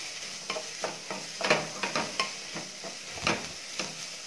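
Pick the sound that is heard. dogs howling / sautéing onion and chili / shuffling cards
sautéing onion and chili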